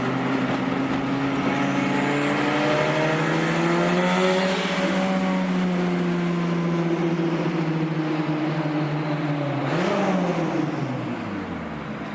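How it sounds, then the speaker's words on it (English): A turbocharged Honda Civic engine revs up and down with rising and falling pitch, a sharp climb near the end as VTEC engages and it pulls hard, loud and close with no talking. "That VTEC cracked hard."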